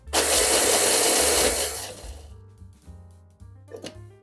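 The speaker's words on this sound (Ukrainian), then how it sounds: "беру і небагато і збиваю блендером для того, щоб трошки їх подрібнити" A blender chops ingredients for a Kyiv cake, whirring loudly for about two seconds with a dense buzzing roar, then cuts off, leaving a low hum and a few clicks.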